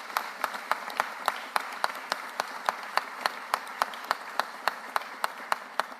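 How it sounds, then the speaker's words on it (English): An audience applauds at a Philadelphia public event marking a managing director appointment, producing steady, fairly dense clapping with sharp individual claps standing out, moderately close and continuing for the full stretch. "Give him another round of applause for that."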